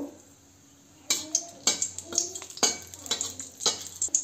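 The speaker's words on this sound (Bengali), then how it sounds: "শুকনো লঙ্কাটাকে ভালো করে ভেজে নেব" Dried red chillies frying in a little oil in a wok while cabbage curry is prepared, with a quiet start then a run of sharp metal stirring scrapes and clinks over a soft sizzle.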